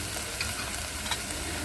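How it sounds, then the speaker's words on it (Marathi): Onion and potato pieces sizzle in a hot coconut-oil tempering, with a dense, steady frying hiss and a couple of soft stirring scrapes. "फोडणीमध्ये कांदा आणि बटाटा पण घातलेला आहे आणि तो आपण शिजवून घेतोय"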